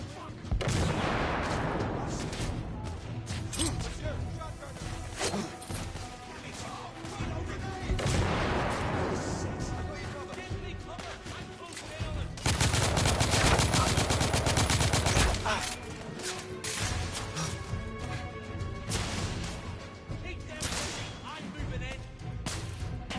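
Grenade blast and bursts of gunfire in the shooter game The Order: 1886, loud, dense volleys recurring through the scene, with a voice calling out over the combat.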